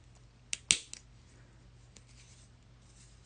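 Scissors snip a few times in quick succession during mixed media crafting with wire and beads: two or three short, crisp cuts close by, followed by faint rustling against a quiet background.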